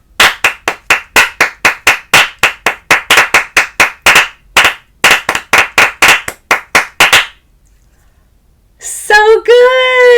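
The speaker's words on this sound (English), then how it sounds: "Clap." Hand clapping in a music-room rhythm reading exercise, about thirty crisp, close claps in an uneven pattern of short and spaced beats, then a pause and a voice speaking at the end.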